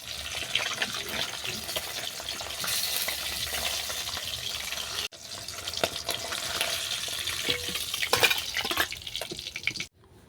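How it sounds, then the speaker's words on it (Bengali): Fish rubbed with salt and turmeric frying in oil, a dense continuous sizzle and crackle with occasional stirring taps, close and steady, cutting off briefly midway and at the end. "মাছের মধ্যে লবণ হলুদ মেখে হালকা করে ভেজে নেব"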